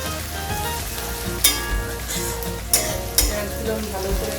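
Onions frying over a high flame until browned for beresta in a Bengali-style chicken haleem, a steady close sizzle with a few sharp stirring scrapes and clatters.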